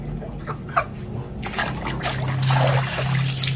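Water trickles and pours during the bathing of a gamecock with a wash-out treatment, starting with a few soft drips and splashes, then a steadier close pour and slosh.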